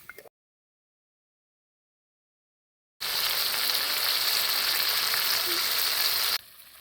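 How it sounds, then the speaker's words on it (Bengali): Spice paste with dried chilli sizzles and is stir-fried in oil, producing a loud, even hiss. It begins abruptly after a long stretch of silence and lasts about three seconds before dropping away. "মশলাটা সেজন্য একটু জল দিয়ে দেবো দিয়ে এটাকে ভালো করে কষিয়ে নেবো"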